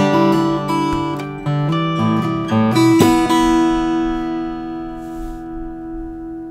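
Guitar strummed on the two highest strings, a few bright downstrokes in a short rhythmic pattern ending in one ringing chord that fades out, close and alone.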